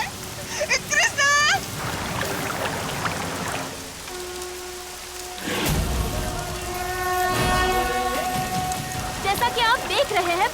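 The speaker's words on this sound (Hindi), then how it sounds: "बारिश बहुत हो रही है" Heavy rain hisses steadily under voices and tonal background music in a dramatic television scene, with the downpour swelling louder midway through.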